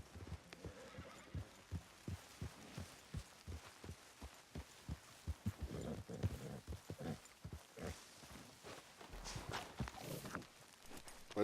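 Horse hooves clip-clop at a steady walking rhythm in the video game Red Dead Redemption 2, soft and fairly near, with quiet ambient background.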